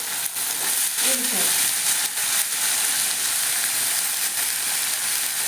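Crushed green chilies sizzling in hot oil, a dense continuous frying hiss with occasional stirring clatter, close and loud, no voices.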